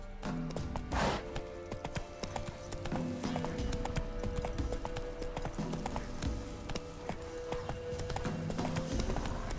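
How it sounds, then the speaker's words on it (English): Hoofbeats of the horse Roach galloping in the video game The Witcher 3, a dense, steady rhythmic clip-clop under a continuous game soundscape with a brief snort near the start. "Run, Roach."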